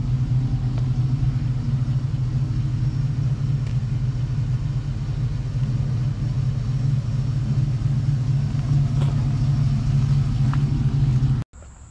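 An LS-swapped truck idles with a steady, loud low engine rumble close by for most of the span, then cuts off abruptly near the end; no clear revving surge is evident.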